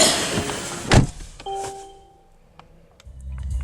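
A 2017 Mercedes-AMG C63 S door swings shut with one solid, close thud, followed by a faint electronic chime tone and quiet cabin ambience.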